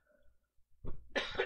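A faint breath and a small throat sound, then two sharp, close coughs in quick succession.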